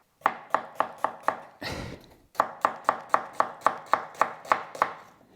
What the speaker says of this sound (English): So make sure you cut the ends off first before you cut it into strips.